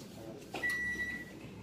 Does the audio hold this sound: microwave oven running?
yes